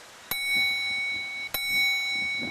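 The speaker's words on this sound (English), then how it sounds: "When he heard the distant sound of a bell ringing" Two clear bell strikes about a second apart, each a bright metallic ding with a long ringing tone fading softly.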